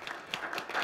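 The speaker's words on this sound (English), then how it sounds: "Let's give Rod a round of applause." Brief burst of audience applause for a man named Rod at a talk, a dense patter of hand claps at moderate level throughout the short moment.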